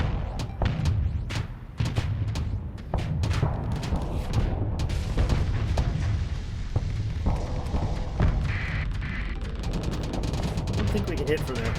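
Primary guns firing in the space combat game Starsector, a steady run of punchy booms and thuds, some in quick bursts, heard under ongoing talk.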